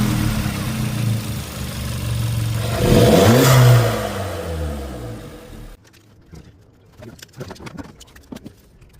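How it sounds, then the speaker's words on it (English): A 1.4 TSI EA111 engine in an MK5 Jetta idles with a steady low hum, briefly swelling as it revs, then settles before cutting to quieter, intermittent clatter up close. "This is how the engine idles before."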